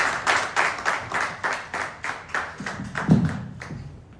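Audience clapping at a public speaking training meet-up, a small group beating out a steady rhythmic clap of roughly four beats per second, fairly close and moderately loud throughout.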